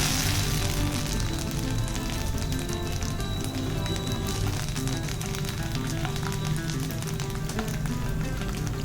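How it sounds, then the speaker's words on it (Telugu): Curry leaves fry in hot oil for a potato mixture snack, giving a loud, dense, continuous crackling sizzle that holds steady throughout. "ఇప్పుడు దీంట్లోకి కరివేపాకును వేసుకొని ఫ్రై చేసుకోవాలి"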